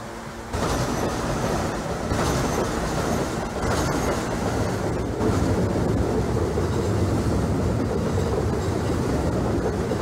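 A simulated Brooklyn-bound NYC subway A express train in Trainz Simulator 2012 rolls along with a loud, continuous rumble and rattle of cars and wheels, starting abruptly after a brief quiet moment and holding steady throughout.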